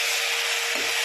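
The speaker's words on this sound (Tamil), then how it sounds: "சிக்கனை ஆட் பண்ணிவிட்டு நல்லா பசிஞ்சு விடுங்க" Chicken stirred and mixed in a hot frying pan while cooking chicken biryani gives a steady, close, even sizzle with a faint scraping stir near the end, and no talk.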